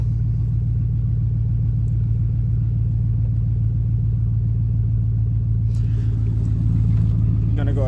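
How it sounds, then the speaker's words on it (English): A truck's 5.3 liter Vortec V8 idles steadily just after starting, a deep, even rumble close by and constant throughout, with faint voices and some light noise near the end. "So we're gonna go ahead and start the truck and make sure everything is good with it."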